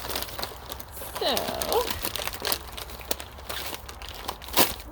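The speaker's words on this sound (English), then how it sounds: "Let's open up a package, and we've got a package within a package" A paper seed package with a small plastic bag inside is opened, faint crinkling and tearing rustles with light taps and a few short clicks, close and quiet.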